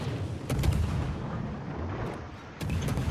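Naval guns of a warship fire shells in a sea-battle game, heard as a few dull booming salvos at a distance over a rumbling, noisy battle backdrop, with no voices.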